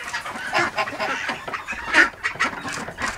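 Geese, including greylag geese, honk and cackle in a bird park, a steady flurry of overlapping calls at close range.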